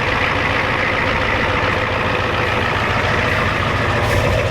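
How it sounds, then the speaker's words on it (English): Diesel farm truck idling on a cold day, a loud, steady low rumble heard up close, with no breaks and no talking. "Good running truck."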